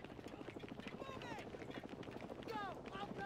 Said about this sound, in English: Helicopter, half a click north.